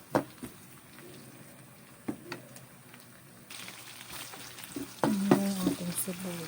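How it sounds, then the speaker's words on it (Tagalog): Garlic sautéing in oil in a pan for pork adobo, a steady close sizzle with occasional scrapes and stirs that grows louder partway through; a voice is faintly present. "Ayan, nagkikisa na tayo ng ating bawang."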